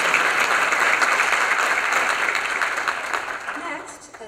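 Applause from a faculty meeting audience for a committee chair, a burst of many hands clapping that fades out over a few seconds.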